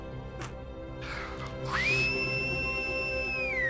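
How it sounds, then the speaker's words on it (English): Someone in a Doctor Who Christmas episode whistles a high, sustained note that slides up and holds steadily, preceded by a short squeak and a couple of breathy rushes, clear over quiet background. "Is that even possible to whistle like that?"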